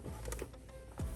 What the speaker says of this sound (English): You can stitch in the ditch right here.